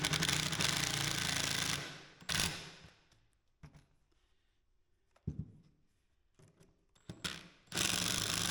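A screw being driven into pre-drilled wood while building a lathe duplicator base, with loud, grinding bursts of a power driver at the start and end and short whirring pulses in between.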